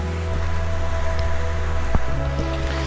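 Rain falls during a night motorcycle ride on a Cordillera highway toward Tinoc, a continuous steady hiss with a low, even engine hum running beneath it.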